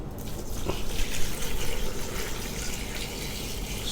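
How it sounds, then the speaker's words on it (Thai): Water pours into a pot of pork bones for Thai leng soup, a continuous close splashing gush with no talking. "แล้วก็เราก็จะเติมน้ำเลยนะครับ"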